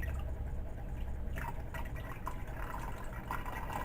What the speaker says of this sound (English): I'm going to go ahead and pour my lye over the stick